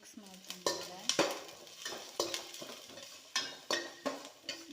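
A spoon scrapes and clinks against a bowl as chopped onion is mixed into beaten eggs for an egg recipe, a quick irregular run of close, sharp taps and stirring strokes with faint sizzling behind.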